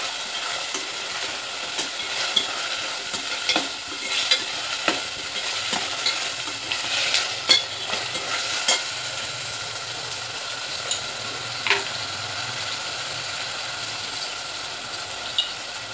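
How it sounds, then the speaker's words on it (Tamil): Chopped tomatoes sauté in a hot oiled pan for a banana flower kuzhambu, a steady close sizzle broken by frequent scraping and clacking stirs of a spoon against the pan. "தக்காளி போட்டுருங்க. இதுக்கு நல்லா வதக்கணும்."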